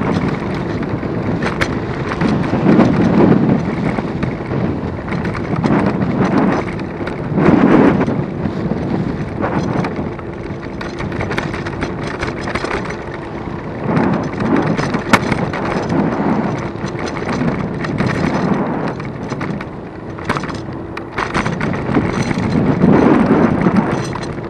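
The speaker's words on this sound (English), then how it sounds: "Windy again." Strong gusting wind buffets the microphone of a rider on a hired Superpedestrian e-scooter commuting through Nottingham, a steady roar with surging gusts throughout and no talk.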